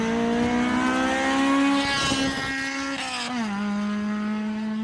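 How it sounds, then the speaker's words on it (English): A loud, heavily modified Honda S2000 at a race track in Japan, its engine holding a high, raspy tone that rises and dips with throttle changes, close up, with no voices. "It was the loudest S2000 I've ever heard in my life."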